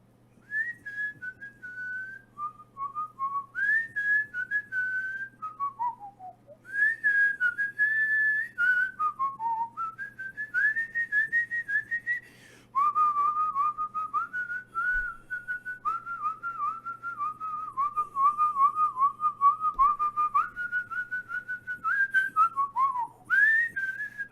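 A person whistles a guitar solo while playing guitar, a long clear melodic line of sliding and held notes with brief breaks, close and fairly loud, with faint strumming underneath.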